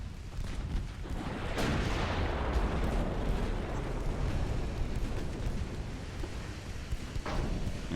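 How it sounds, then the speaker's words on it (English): Heavy warship guns fire in a naval battle in Ultimate Admiral: Dreadnoughts, a sustained deep rumbling barrage with repeated booming blasts rolling over one another, loud and continuous with no talk. "Oh, I guess we're firing at the other one right now."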